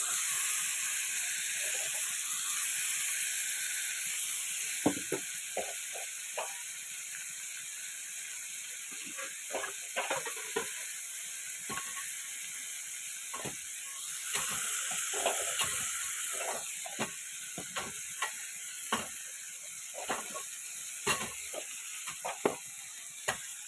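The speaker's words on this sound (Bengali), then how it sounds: "উচ্ছে আর আলু ভাজবো।" Bitter gourd and potatoes frying in a pan, a constant bright sizzle under repeated clicking and scraping stirs that come in irregular bursts, with no voices.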